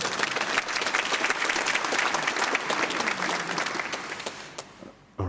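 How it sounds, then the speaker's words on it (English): Applause from a conference audience at PromCon 2024, the Prometheus monitoring event, a dense steady wash of many hands that holds for several seconds before dying away abruptly near the end. "So give yourselves a round of applause."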